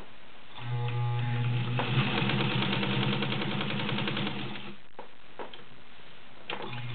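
A Universal class 15 clone sewing machine stitches through thick layered upholstery cotton, its motor and needle running in a steady, fast mechanical rhythm for several seconds before stopping, followed by a few faint clicks.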